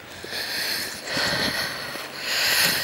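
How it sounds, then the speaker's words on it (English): Gentle sea waves lap at the shore at Weston-super-Mare, Somerset, on an evening with the tide coming in: a soft, continuous hiss that swells and recedes in three slow surges. "Just hear it, the sea, just starting to lap."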